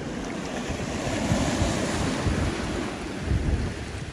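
Steady roar of surf on a remote Baja California beach, loud and continuous with swelling breaks and some wind buffeting the microphone, no voices.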